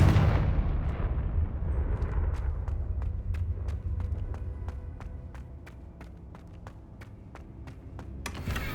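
Hogwarts Legacy's Confringo fire spell goes off as a burst of low rumbling blast at the start, then fades under a string of sharp, evenly spaced ticking clicks.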